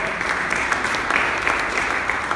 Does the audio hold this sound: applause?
yes